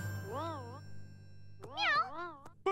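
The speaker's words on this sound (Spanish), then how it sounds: "¡Es solo preciosa, la gatita!" A cartoon kitten gives several high, wavering meows: one drawn-out mew near the start, then a quick run of three or four overlapping meows after a pause, close and fairly loud over a steady low hum.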